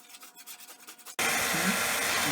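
Soft rhythmic rubbing strokes give way abruptly to a louder, continuous raspy scraping of wood being sanded by hand, close by.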